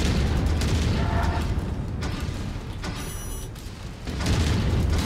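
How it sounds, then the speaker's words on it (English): A mech's autocannon in a video game fires with heavy, booming low-end thuds over a dense mechanical rumble, loud and continuous with a few brief dips in intensity. "This autocannon's so weak."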